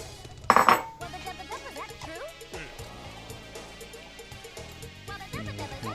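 Big spoon clinking against a dish while serving bagel and butter pudding: one sharp, bright metallic clatter near the start, then softer scraping under spoken talk and background music.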